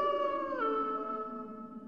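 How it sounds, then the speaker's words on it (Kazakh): A wolf howl from an animated cartoon: one long, sustained, wavering cry that dips in pitch midway and slowly fades, heard clearly on its own without talk. "Тез бас аяғында қасқырлар жақындап қалған сияқты."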